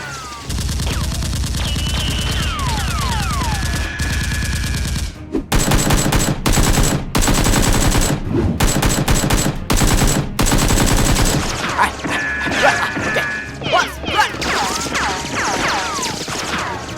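Rapid toy-gun fire in a staged Nerf war battle, heard as loud, close bursts of clattering shots in quick rhythm, with shouting and whooshing effects around them and a stretch of heavy continuous firing in the middle.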